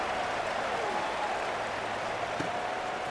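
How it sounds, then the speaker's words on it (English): Stadium crowd in EA Sports College Football 26 keeps up a steady, dense roar after a touchdown and extra point, filling the whole stretch evenly with no individual voices standing out. "this crowd is buzzing after that last score"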